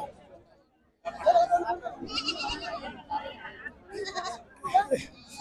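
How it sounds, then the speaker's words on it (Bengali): A local-breed goat bleats at a rural livestock market, giving a couple of short, wavering calls amid nearby people talking. "এই দেখুন আমাদের লোকাল ব্রিডের একটা ভালো ছাগল"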